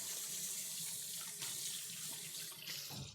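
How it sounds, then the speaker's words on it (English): Hands are rinsed under a running kitchen tap between cooking steps, a steady close hiss of flowing water with slight splashing changes and no voices, easing off at the end. "I'm gonna give my hands a quick rinse."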